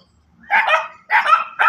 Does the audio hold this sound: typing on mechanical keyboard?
no